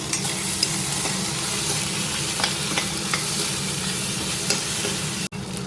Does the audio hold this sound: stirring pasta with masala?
yes